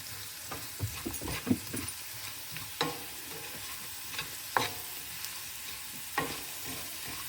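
Potatoes fry in a pan with a steady soft sizzle, broken by intermittent scraping and stirring clatter as they are turned, close by and with no voices.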